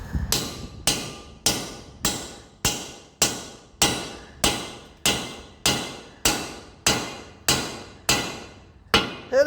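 Wheel stud being hammered into a Volvo hub: a steady series of about fifteen loud, ringing metallic blows, evenly spaced roughly two-thirds of a second apart, each decaying quickly, with no talk.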